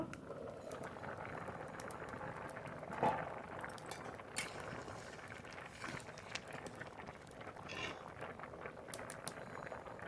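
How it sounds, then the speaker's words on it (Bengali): Matar dal (yellow split pea lentils) simmering in an open pot over a stove, a steady low bubbling hiss with a brief clink of the lid or utensil midway, close and alone. "ঢাকনা তুলে নিয়ে দেখব ডাল কতদূর সিদ্ধ হলো"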